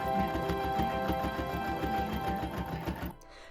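Sewing machine stitching a rag quilt, a close, rapid, steady chattering hum of the needle that runs for about three seconds, then stops abruptly.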